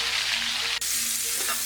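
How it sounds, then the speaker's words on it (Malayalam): Chopped tomatoes sautéing in oil for a restaurant-style chicken karahi, giving a dense, continuous hiss of frying that runs loud and close throughout, with one brief dropout midway. "ഇതേ എണ്ണയിലേക്ക് തന്നെ ഈ അരിഞ്ഞെടുത്ത് വെച്ചിരിക്കുന്ന തക്കാളി ഇട്ട് വഴറ്റി കൊടുക്കാം."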